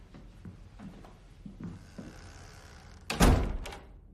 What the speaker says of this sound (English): The physical door opened for a moment.